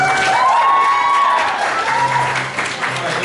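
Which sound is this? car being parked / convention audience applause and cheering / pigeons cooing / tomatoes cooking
convention audience applause and cheering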